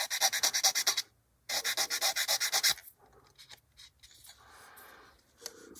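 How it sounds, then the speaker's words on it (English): Sandpaper rubs back and forth over raised pins on the plastic fuselage of a 1/48 HK Models B-25J kit, making two close runs of quick rhythmic scratchy strokes, then softer, sparser rubbing. "You need to sand there."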